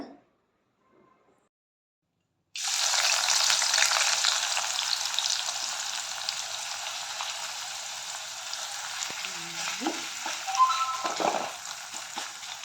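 Onions, raisins and cashews fry in a pan for a paneer biryani, a loud steady sizzle that starts abruptly after a quiet moment and keeps going, with faint stirring clinks near the end.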